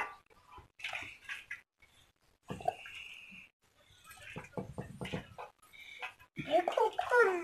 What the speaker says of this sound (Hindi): ये गर्म पानी हम इसको सही तरह से इसके डालेंगे इसके ऊपर